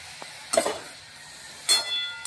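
Pointed gourd frying in a pan, a faint background sizzle broken by a few louder scraping stirs, close and with no voices.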